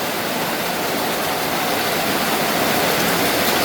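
Heavy rain pours down in Kerala, a loud, steady, dense hiss that never lets up, with no voices.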